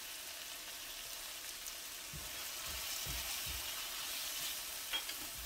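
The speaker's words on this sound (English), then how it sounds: "now that our sofrito is done, let's add some paprika." Paprika is stirred into a sofrito frying in a paella pan. A soft, steady sizzle runs the whole way through, and a few quiet scrapes of stirring come in near the middle. No one speaks.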